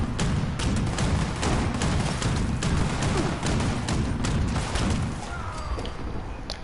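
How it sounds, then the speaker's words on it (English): Enemy gunfire in Fallout 76 crackles as a dense, steady barrage of rapid shots and thumps, loud and continuous throughout with no break and no talking over it. "Somebody shooting me over here."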